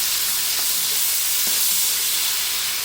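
Onions frying in a pan for a lentil stew give a steady, fairly loud broadband hiss and sizzle, with a couple of brief clinks or stirs partway through and no talking.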